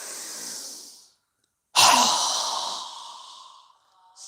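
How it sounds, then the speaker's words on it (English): A strong exhale pushed out through a wide-open mouth during a yoga breathing exercise: a short breathy rush, a brief pause, then a long, loud, forceful whoosh that gradually fades. "exhale with a strong breath with our mouth open wide"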